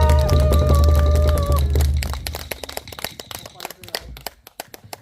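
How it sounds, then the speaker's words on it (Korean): A crowd breaks into crisp, dense clapping after a Goguryeo-style drum show as tonal music fades out, and the applause carries on and thins toward the end. "여러분은 이분들께 박수를 엄청 큰 소리로 화답하겠습니다"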